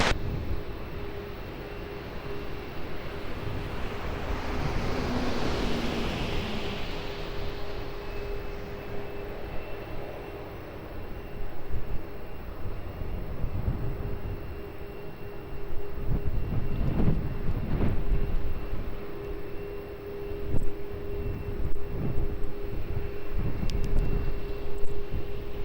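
An airplane landing on runway 20 at Lisbon Airport, with a steady broad engine and airflow roar rising in the middle and a continuous far-off rumble that persists throughout.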